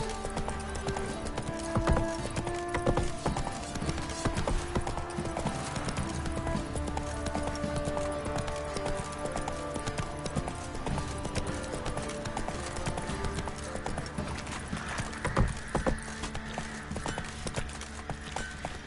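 Horse hooves clip-clopping in a steady galloping rhythm in The Witcher 3 video game, close and continuous over game music and ambient background, with an occasional faint whinny.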